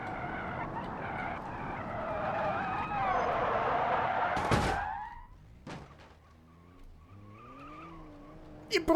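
A Mercedes in the BeamNG driving game skids after a long jump: a loud engine and rushing roar, then a sharp thump on landing followed by quieter tire scrubbing and squeals.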